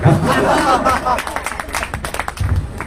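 An audience at a Hindi poetry recital and poets' gathering breaks into loud, close clapping that swells at first and then thins into scattered claps, mixed with crowd murmur and a voice speaking.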